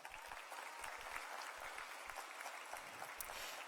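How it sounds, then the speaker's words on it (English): A graduation audience applauds the parents and families of the Class of 2017, a steady wash of many hands clapping in a large hall, heard from a distance at low level, with no talking. "Class of 2017, please give your parents and families a round of applause."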